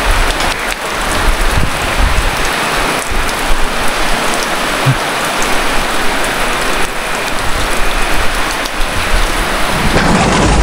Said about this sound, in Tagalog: Lumakas ang ulan guys.